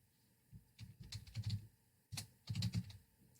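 Keys tapped on a computer keyboard while filling in a text box on a school reporting form, two quiet bursts of rapid clicking separated by a short pause, with no voice.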